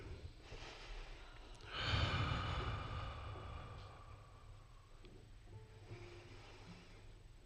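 Faint, slow breathing from people taking a deep breath together during a guided meditation at a service, one long inhale and exhale in a quiet room.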